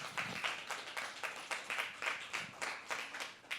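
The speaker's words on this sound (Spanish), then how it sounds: "Denle un aplauso a nuestro Dios." A church congregation claps together in a quick, even rhythm, a run of bright hand-claps that stays fairly steady in loudness, heard without voices.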